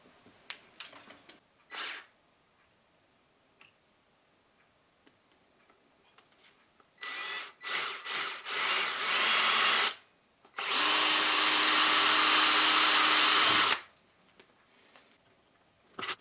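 A power drill whirs in several short bursts, then runs in one long steady stretch before stopping, close by with quiet pauses between, drilling a motor bracket for a DIY 3D printer.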